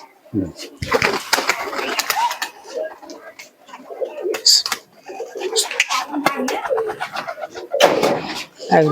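Tumbler pigeons coo in a loft as one bird performs tricks, a series of throaty coos and wing flutters at close range. People talk over the calls now and then.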